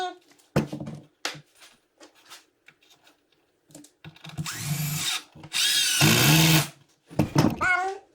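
A power drill drives screws into a wooden farmhouse end table, loud close bursts of whirring that lengthen into sustained runs of a few seconds, separated by clicks and short pauses.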